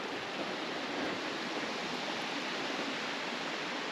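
A waterfall gives off a steady, broad rushing hiss with no change or break, heard from a distance and faint, with no voices.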